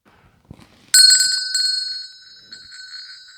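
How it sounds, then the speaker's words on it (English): A school bell found in an office rings out sharply after a soft knock, its bright metallic tone sustaining and then fading with a few more lighter strikes as it decays. "it's a school bell"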